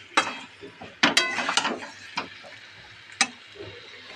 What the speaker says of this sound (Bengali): গোলমরিচের গুঁড়ো, দিয়ে মাখিয়ে নিয়ে তার মধ্যে ভেজে রাখা সবজিগুলোকে সব দিয়ে দিতে হবে, দিয়ে ভালো করে এটাকে কষাতে হবে।